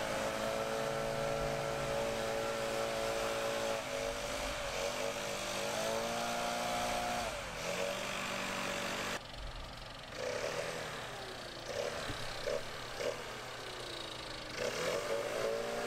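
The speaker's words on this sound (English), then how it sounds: "I'm trying to blow the clumps of grass and dirt off of the gravel" A leaf blower runs steadily and loud, blasting clumps of grass and dirt off a gravel bed, its engine pitch shifting as it works; the roar breaks briefly near the middle and then resumes with rougher, gusty surges.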